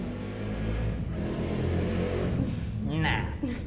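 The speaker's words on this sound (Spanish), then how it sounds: "No sé cómo hacen para andar tanto tiempo con las motos que suenan tan duro." A loud motorcycle engine revs and rumbles nearby, its roar rising and falling while people talk over it.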